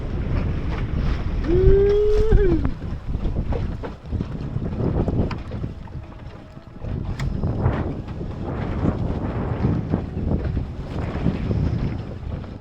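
A wooden sailboat tacking at sea, with strong wind buffeting the microphone over rushing water and hull noise throughout, plus a brief creak or squeal of rigging early on.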